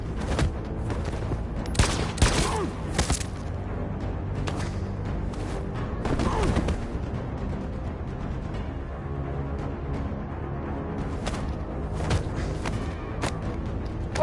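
Video game gunfire in Detroit: Become Human, with rapid bursts of loud shots and heavy impacts crackling through the first seven seconds, then a sustained rumbling barrage of fire and booms continuing to the end.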